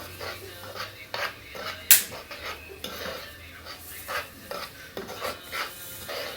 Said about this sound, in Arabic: بروح حاطة عليها بفضل اقلب في البصل واسيبه لغاية ما بيدبل معايا شوية بشوية